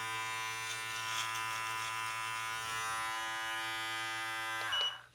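A Brio electric beard trimmer gives a steady, close, tonal buzz while cutting a beard with a 12 millimeter setting. The hum holds level throughout and then cuts off abruptly at the end, with no talking.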